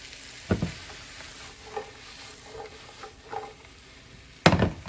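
Mushrooms sautéing in a pan for a veggie lasagna, a faint soft sizzle beneath a few sharp utensil knocks and clatters, one near the start and a louder one near the end.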